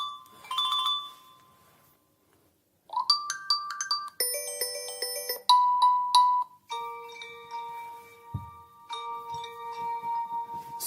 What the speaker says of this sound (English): And we've got phone ringtones